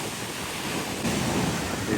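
Rough sea surf rolls in at the Vizhinjam coast under strong wind, a steady loud roar of breaking waves and buffeting air with no clear gaps.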